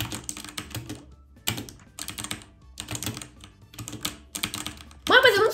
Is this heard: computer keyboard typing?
yes